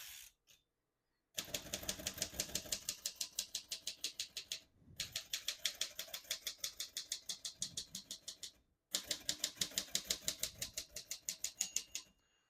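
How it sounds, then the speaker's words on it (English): A 1947 Royal Quiet De Luxe portable typewriter being typed on, giving close, loud, rapid runs of sharp mechanical key strikes in three bursts split by short pauses, with no voices. "Once you hear the bell, you're at the end of the margin."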